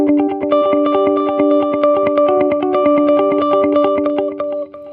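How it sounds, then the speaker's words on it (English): Electric guitar notes played through a TC Electronic Flashback pedal set to a dotted eighth note delay, each picked note followed by rhythmic repeats that fill in a busy, chiming, shimmering pattern, loud and without talk. "what I basically bought it for is dotted eighth note delays"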